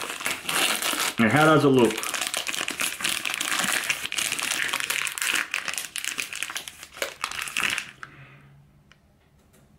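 Cadbury gingerbread biscuit packaging is unwrapped close by with loud, continuous crinkling and crackling plastic for several seconds before going quiet. A person speaks briefly partway through.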